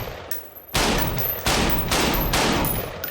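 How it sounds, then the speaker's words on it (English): A firearm fires several sharp, loud reports in quick succession at close range, each crack followed by a short ringing decay, with no talking. "Pull trigger when you're ready. Shoot."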